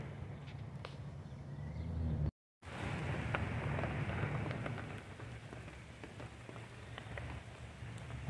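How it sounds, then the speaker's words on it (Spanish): Steady rain falls on surfaces outdoors on a ranch in Oaxaca, a soft continuous patter with occasional louder drops, briefly cut to silence partway through. "La lluvia en el rancho."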